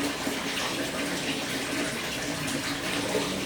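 Warm, greyish-clear stream water flowing near the Kawah Ratu crater on Gunung Salak, a steady broadband rush that holds even and close for the whole stretch with no talk.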